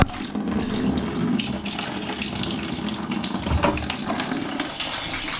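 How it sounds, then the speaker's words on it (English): Water trickles and gushes from a leaking drain pipe under a sink, a continuous close flowing stream with small splashy bursts, heard alone without talk. "that's how the leak looks like"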